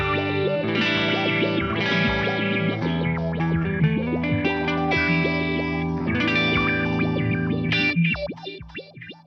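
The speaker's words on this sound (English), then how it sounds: "This is the liquid mode. This kind of adds like a sequenced or stepped phaser to the delay." An electric guitar plays through a Mooer D7 delay pedal in liquid mode, a stepped, sequenced phaser sweeping over the delay repeats. Layered notes ring and warble continuously, then the trails decay away at the end.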